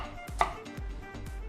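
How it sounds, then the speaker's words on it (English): A knife dices an onion on a cutting board in four distinct knocks at an even, unhurried rhythm, close and clear with no talking. "We're just gonna dice the onion, just a half onion for this amount of sausage."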